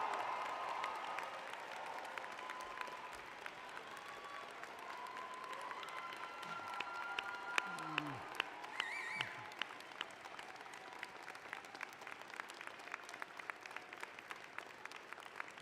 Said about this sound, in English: I ask your friends, family, and members of the platform to join me in applauding the amazing graduating class of Fall